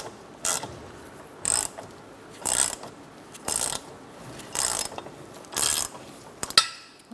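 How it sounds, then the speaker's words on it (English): A ratchet drives a bolt into a 2004-2009 Mazda 3 rear lower control arm in six evenly spaced bursts of clicking about a second apart, close and clear, with no speech. "Just going to get my bolt started through here."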